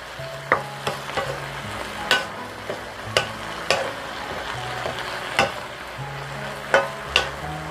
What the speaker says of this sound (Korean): 그래서 또 달달 고추가 나른해질 때까지 볶아줍니다